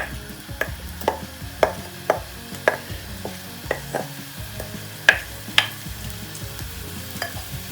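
Onions frying in oil in a pan, a steady sizzle under sharp, irregular clinks and scrapes of stirring, close and fairly loud.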